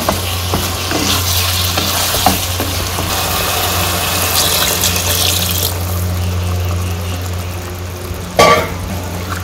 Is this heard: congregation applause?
no